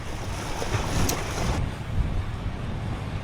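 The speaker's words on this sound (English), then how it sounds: "relaxing, watching these waves come in" Waves rolling in on a rocky shore on the Isle of Skye, a steady broadband wash of surf with gusty wind noise over the microphone, continuous and fairly close, with no voices.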